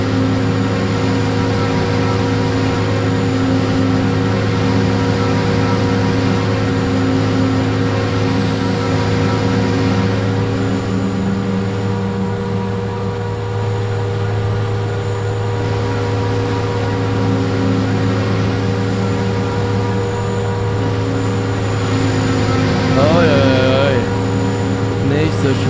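Claas Jaguar forage harvester engine in a farming simulator game, a loud steady droning hum rich in harmonics that runs continuously, with a brief rising whine near the end.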